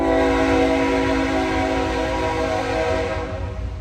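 A passing train sounds its horn in one long, loud, steady blast heard up close, with the rumble of the rails underneath, fading slightly at the end.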